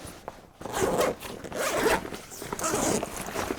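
Zipper being pulled open on a Cotopaxi Allpa 35L travel backpack, a close, steady rasping run of teeth lasting several seconds with brief pauses as the slider is worked along the pack.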